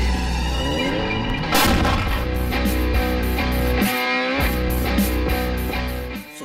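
Artillery and mortar fire booms in a loud, dense, distorted barrage, a continuous rumble punctuated by repeated heavy blasts with brief gaps, alone without voices.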